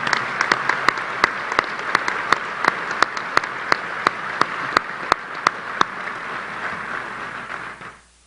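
Audience applause welcoming a new head football coach's family at a Texas Tech event, a sustained wash of many hands clapping with sharp individual claps standing out, fading away at the very end.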